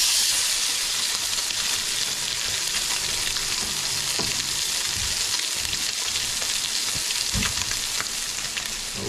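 A halibut fillet sears in a frying pan just after being flipped, giving a steady, loud hiss of frying oil with a few soft pops and clicks of the pan, close up and continuous with no talking.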